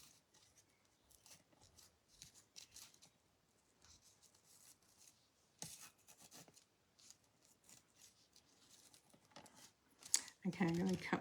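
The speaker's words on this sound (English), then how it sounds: "I'm going to cut this off here." Quiet snips and rustles of scissors cutting ribbon while tying bows for a papercraft project, soft intermittent cuts close by with a louder crinkle at the end.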